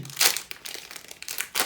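Foil wrapper of a Pokémon booster pack crinkling and crackling as hands work to open it, close and continuous with uneven bursts.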